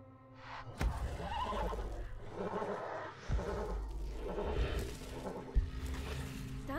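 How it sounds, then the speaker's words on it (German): A horse whinnies loudly in the PS4 game Beyond: Two Souls, over a dense, layered game soundtrack, with sharp percussive hits punctuating the mix. "Unser Pferd ist auch unruhig geworden."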